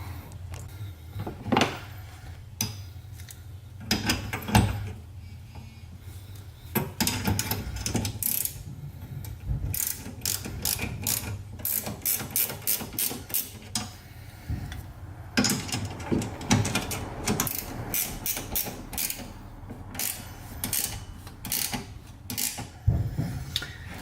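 Bolts being tightened on a custom Hi-Lift jack bracket mounted to a Rola roof rack on a Toyota 4Runner, heard as bursts of rapid ratchet clicking separated by metallic clinks and handling noises, close and with no talking.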